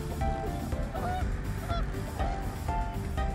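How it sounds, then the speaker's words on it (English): Geese honking repeatedly on a pond, several loud nasal calls overlapping above a steady rushing background of water and wind, fairly close. "There was one close call in the middle of the pond with some foul waterfowl."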